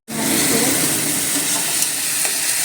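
Tomatoes and coriander stems drop into frying onions for a village-style jackfruit and prawn dish, setting off a sudden loud sizzling rush that continues as a steady close hiss.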